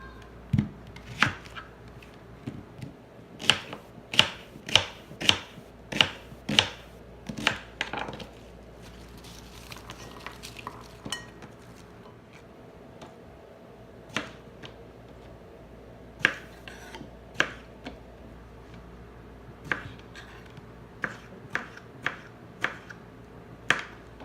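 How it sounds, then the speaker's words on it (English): A knife chops raw onion and tomato into large pieces on a board for a chile relleno topping, giving a run of sharp, evenly spaced taps close by, quick bursts broken by pauses, with no talking. "I'm gonna cut it up in kind of large sizes"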